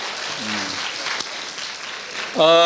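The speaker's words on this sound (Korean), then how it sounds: "Can we give them a big applause?" A forum audience applauds visiting Danish students and teachers, a soft, steady wash of clapping in a hall while a voice speaks briefly over it and again louder at the end.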